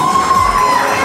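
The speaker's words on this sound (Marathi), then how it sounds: "जोरदार टाळ्या झाल्या पाहिजे स्पर्धकांसाठी." A crowd cheering and shouting for contestants at a community home-minister game show event, a loud, dense burst of many voices with a sustained tonal whistle or shout riding on top.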